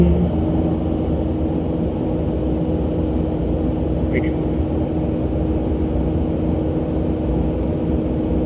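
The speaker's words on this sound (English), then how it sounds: "So I'm gonna let it run at full throttle for a minute." A Kubota SVL 97-2 compact track loader's diesel engine runs at full throttle after an E:9302 fault, a loud, steady, unbroken drone with low rumble held throughout.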